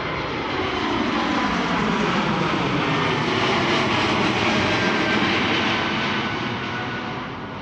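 Jet airliner departing from the Polderbaan runway at Amsterdam Schiphol Airport on a calm sunny morning, a loud sustained roar that swells and holds steady across the whole stretch, then eases slightly toward the end.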